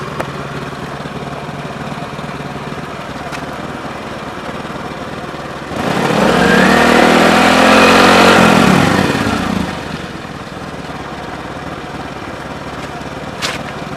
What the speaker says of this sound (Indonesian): Setelah 2 menit mesin dihidupkan.